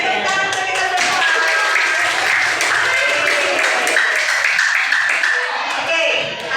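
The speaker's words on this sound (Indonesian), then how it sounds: "dan tepuk tangan untuk kita semua." A classroom of students claps together in sustained, dense applause during an Indonesian social studies lesson, loud and steady for several seconds with no talk over it.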